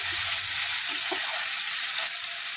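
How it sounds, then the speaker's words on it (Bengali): Spice paste frying in a pan with chopped tomato and a splash of water for a spicy Bengali eggplant dish, giving a steady close sizzle with a few soft stirring scrapes. "মশলাটা আবার কষিয়ে নেবো ভালো করে।"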